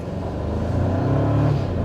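A 2024 Toyota Tacoma SR5 pickup truck accelerates hard with its wheels spinning. The close, loud engine roar rises in pitch over about two seconds.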